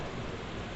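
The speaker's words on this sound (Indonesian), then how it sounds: "Sorry ya hujan." Rain falling outside, a steady soft hiss of drops at a constant low level, heard faintly in the background without speech.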